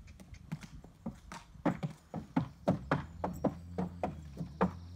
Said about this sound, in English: Lovely horse, actually.